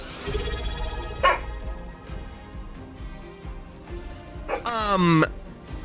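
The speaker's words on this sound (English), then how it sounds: "That barking sound you hear in the background is Nika." Nika, a dog, barks in the background of a talking stream: a few distant, muffled barks spread across the stretch, under a close voice that speaks throughout.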